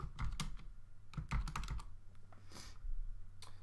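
Computer keyboard typing while Arduino code for an ESP8266 WiFi board is written, a close run of quick clicky keystrokes in bursts with short pauses and no talking.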